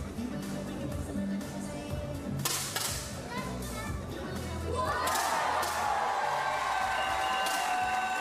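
Spectators at the Paris 2024 Paralympic mixed 10m air rifle prone SH2 final cheer and shout in a rising swell, with a commentator talking over the noise and a few sharp thuds in between.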